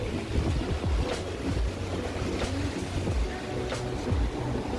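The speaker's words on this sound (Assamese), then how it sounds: "এইটো হ'ল আওনাং বিচ" Waves wash onto Ao Nang beach in Thailand under steady wind, a broad roar of surf with gusty rumble against the microphone, fairly close and continuous, with no talk.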